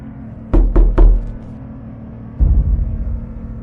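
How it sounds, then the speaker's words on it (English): Knocking on a bedroom wall: three sharp, close knocks in quick succession, a pause, then a duller, more muffled burst of thumps. "This knocking sound."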